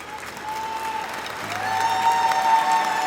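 Hundreds of people applaud inside Barton Coliseum in Little Rock at a diploma ceremony, a steady wash of clapping that swells slightly and echoes through the large hall.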